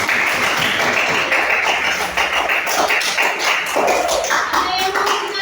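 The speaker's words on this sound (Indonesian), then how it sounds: "Ya, berikan tepuk tangan untuk" Classroom of elementary schoolchildren clapping together, a dense, steady patter of many small hands that continues throughout with faint voices mixed in.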